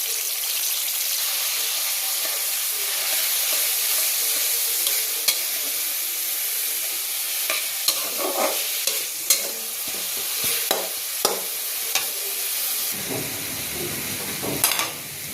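Food fries in a generous amount of oil in a pan for a spicy Bengali-style fry, a loud, steady sizzle broken by repeated scraping stirs that grow more frequent toward the end.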